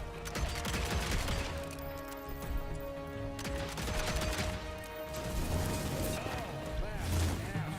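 Rapid gunfire from a gun in the video game Evil West, steady bursts running through the whole stretch over a music bed, with someone talking in French in between.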